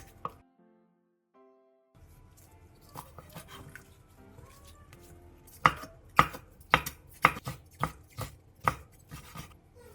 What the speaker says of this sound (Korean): 데친 오징어는 바로 찬물에 한번 헹궈낸 뒤 취향에 맞게 먹기 좋은 크기로 잘라주세요.